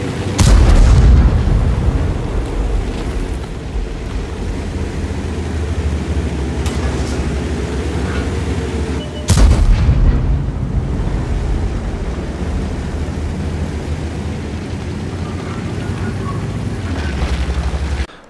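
Tank cannon fire and explosions in World of Tanks, two loud booming blasts at the start and about halfway, each followed by a long rumbling roar of battle noise.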